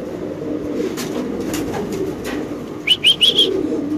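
Spanish and blue bar pigeons give soft cooing calls over a low steady background, followed by a few brighter chirping notes close by near the end.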